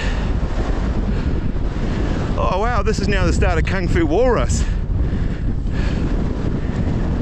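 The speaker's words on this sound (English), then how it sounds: "Oh, she's a bit windy up here." Strong gusts on a hilltop near Rotorua, New Zealand buffet the microphone in a steady low roar, with someone talking briefly over it midway.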